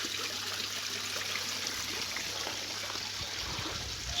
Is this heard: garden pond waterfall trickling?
yes